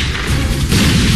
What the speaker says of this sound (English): Bomba inashuka.